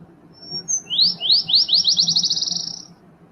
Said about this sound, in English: Here come the birds.